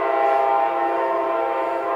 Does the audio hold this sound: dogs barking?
no